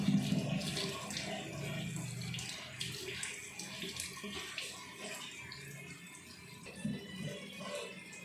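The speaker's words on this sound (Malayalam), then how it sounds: "തണുത്ത വെള്ളത്തിൽ തന്നെ വാഷ് ചെയ്യണം കേട്ടോ." Cold water pours from a tap and splashes as a face is washed, a close, fairly quiet, uneven rush that goes on throughout with no talk.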